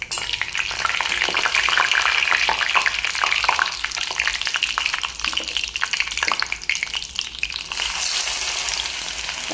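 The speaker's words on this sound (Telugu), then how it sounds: "తాలింపు దినుసులు వేయించుకున్న తర్వాత ఉల్లిపాయ వేసుకుందాం." Chopped onions frying in hot oil with tempering spices in a pan, a busy close crackling sizzle with stirring scrapes, loud at first and easing slightly near the end.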